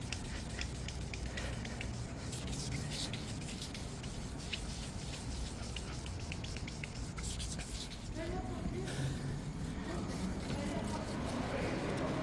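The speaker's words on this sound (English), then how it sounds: "Let's continue scrubbing this" A car windshield is scrubbed with glass polishing liquid, a continuous close rubbing and sanding hiss with no break throughout.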